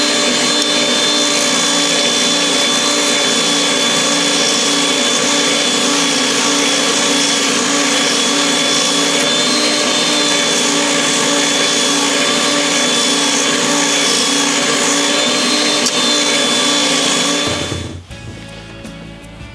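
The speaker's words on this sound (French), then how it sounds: "Donc voilà pour cette petite présentation rapide de la Triton ponceuse oscillante" A Triton TSPS 450 oscillating spindle sander runs steadily with a loud, constant whine and hum, alone, before it is switched off and winds down near the end.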